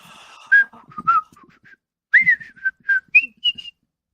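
A person whistles the opening notes of the Mario theme, a quick series of clear, bright pitched tones in two short phrases, close and alone with no talking.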